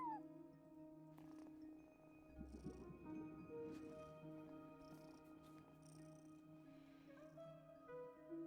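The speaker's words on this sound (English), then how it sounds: "No one except for a cat watching over the front desk." A cat meows in the video game Genshin Impact, a few short meows alongside steady game music with soft ambient tones.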